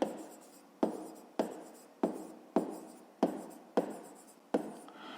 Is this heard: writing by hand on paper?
yes